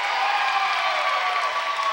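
A crowd cheers and roars from the bleachers at a high school volleyball state final, a dense, steady wall of loud noise that fills the gym without a break.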